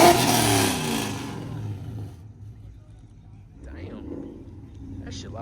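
A loud car engine revving hard at a Hellcat and Scat Pack car meet, a roaring burst that fades away over a couple of seconds, followed by faint crowd voices and whoops.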